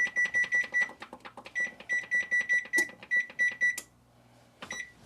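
A kitchen timer, set while extra crispy fries cook, chirps in a quick run of sharp, close beeps, falls silent briefly, then beeps again.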